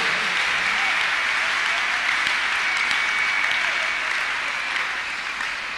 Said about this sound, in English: Clap your hands unto God of the chosen.